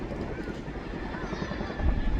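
A Chinook helicopter's heavy rotor thrum fills the air at an air show, loud and steady, with the low pounding growing stronger toward the end.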